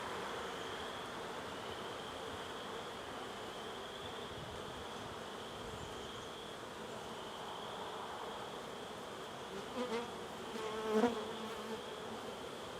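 Steady, dense buzzing of many honey bees around an open hive fills the air, a continuous hum close by, with a few faint bumps and rustles near the end.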